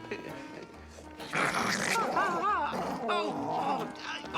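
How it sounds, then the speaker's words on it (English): A dachshund growls and grunts on a film set, with low rumbling growls mixed among nearby talking voices. "Then there were a couple of dachshunds."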